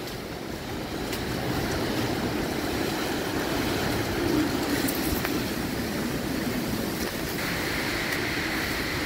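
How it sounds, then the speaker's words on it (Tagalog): Strong super typhoon wind roaring across a mountainside, a loud, continuous, broadband rush with no pause, steady throughout. "Grabe hangin ah. Talagang ano, sumisipol sa lakas"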